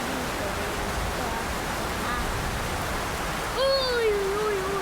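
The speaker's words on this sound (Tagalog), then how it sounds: "Ilog dito." Steady broadband rushing of flowing water fills the scene, with a brief tonal voice-like sound rising near the end.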